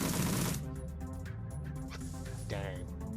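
A short full-auto burst fired in the video game Shadowrun: Dragonfall, with a loud opening crackle followed by quieter game effects and a voice talking over them.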